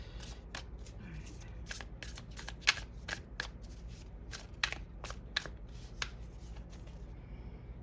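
Tarot cards are shuffled and handled close up during a reading, with soft riffling and a series of sharp, irregular card snaps over a faint background hum.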